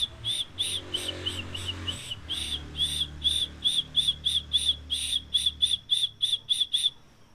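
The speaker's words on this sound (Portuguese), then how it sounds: "um apito de sobrevivência." A shrill survival whistle from a survival kit blown in a quick series of short, sharp blasts, steady and fairly close, with a low rumble underneath at first.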